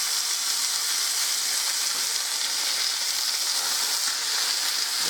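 Meat sears in a hot frying pan, giving a steady, close, loud sizzle with a bright hiss and no break or speech.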